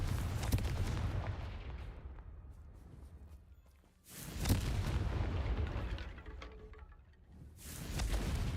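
Confringo blasting spell explosions in the video game Hogwarts Legacy, three loud broadband bursts a few seconds apart, each booming with a long rumbling decay, no talking.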